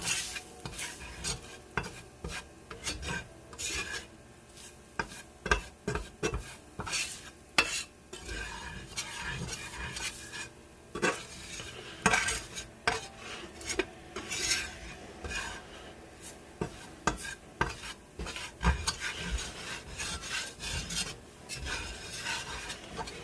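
A utensil scrapes and stirs bologna through grease in a pan over heat, giving repeated close clinks and scraping strokes over a faint sizzle for a long, steady stretch with no talk.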